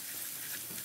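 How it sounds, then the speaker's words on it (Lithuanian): Pepperoni, onion and a small garlic clove fry in a pan, giving off a steady, soft sizzle and crackle that stays even and fairly faint, with no voices over it. "dabar pakepinsim šiek tiek tos peperonį"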